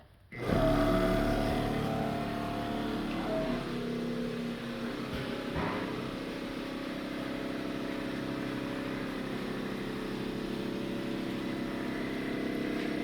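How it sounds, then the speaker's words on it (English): A small transfer pump switches on and runs while cider is racked to a tank, a sudden start followed by a steady motor hum with a constant droning tone that continues alone for many seconds. "I'm gonna turn on the little super transfer pump and get things going"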